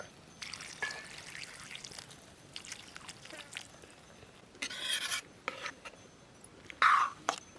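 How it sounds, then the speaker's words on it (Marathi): A little water is poured into a pan of chopped brinjal, tomatoes and spice masala for a traditional Vidarbha vegetable dish, coming as short, quiet splashing bursts among soft kitchen handling noises. "टाकतो पाणी या जरासं"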